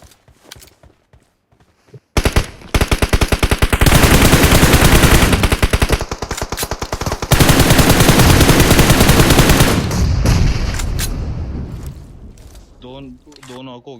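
Rapid automatic gunfire in a battle-royale shooter match, loud sustained bursts of machine-gun fire after a quiet start, tapering off with scattered shots and game sounds near the end.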